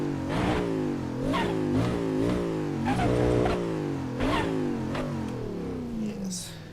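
A Mazda RX-7 FD3S in the driving game Assetto Corsa revs repeatedly, its rotary engine climbing and dropping in pitch with each gear change. The engine sounds loud and close and stays continuous throughout.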